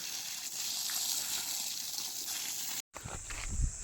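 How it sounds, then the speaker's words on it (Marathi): Water spraying from a garden hose pipe onto plants, a steady hissing gush throughout, briefly interrupted, with some handling noise afterward. "मोर्या काय बाबांकडे पाईप देत नाही बोलतो सगळ्या झाडांना मीच पाणी घालणार आहे तर बाबांना भिजवतोय"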